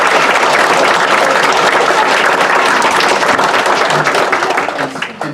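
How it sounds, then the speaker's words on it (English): People at a borough council meeting clap for the teachers, a close, full round of applause from the room that runs steadily for several seconds before fading out. "Let's give them a hand of applause."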